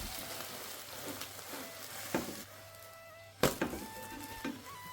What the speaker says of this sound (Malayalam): അപ്പം നമുക്ക് മുട്ട ഒരു സൈഡ് വെന്തതിന് ശേഷം മറിച്ചിട്ട് കൊടുക്കാം.